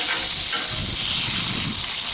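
Bacon fries on a Blackstone griddle in its own rendered fat, a dense, even sizzle with crackly hiss held close and steady, no voices.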